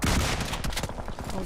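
DBS shotgun fire in PUBG Mobile during a competitive esports match, heard as loud close rapid blasts packed into a dense barrage of shots, with little talk over it.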